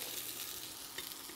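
Vegetables sizzle in a hot pan with beef fat while a pot roast is made, a steady, soft hissing crackle with faint pops, close and continuous with no talk.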